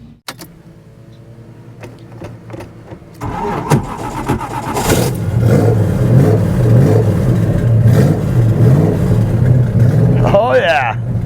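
A V8-swapped Pontiac Fiero cranks and fires up, then settles into a loud, steady running note with revs rising and falling, close by; a voice briefly speaks near the end.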